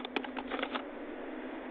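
Quick bursts of clicks from a computer keyboard while text is typed into a text box, a short run of keystrokes close by that stops partway through, leaving a quiet steady hum.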